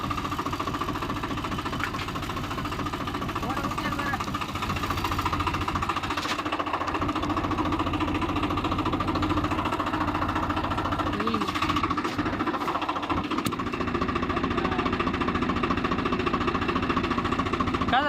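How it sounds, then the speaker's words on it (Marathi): A tractor engine runs on a farm, a steady, knocking mid-pitched idle with vibration, fairly close and continuous without talk. "तुम्हारा भाई ट्रैक्टर चलाने वाला है"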